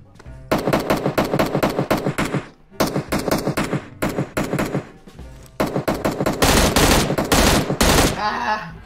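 Bursts of automatic gunfire in PUBG Mobile, several rapid sustained volleys separated by short gaps, loud and close, with the longest burst near the end.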